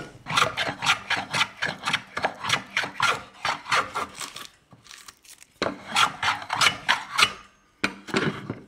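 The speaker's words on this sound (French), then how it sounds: "Et maintenant, le rabot." A hand plane shaves wood in a workshop with quick, regular rasping strokes, close and loud, broken by a short pause before the rhythmic shaving resumes.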